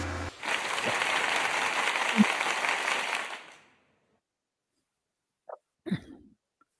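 A canned applause sound effect from a live streaming studio plays loud and steady for about three seconds, then cuts off sharply into silence, followed by a couple of brief faint noises.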